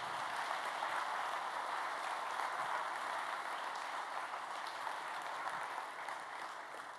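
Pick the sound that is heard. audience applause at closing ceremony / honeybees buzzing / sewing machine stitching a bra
audience applause at closing ceremony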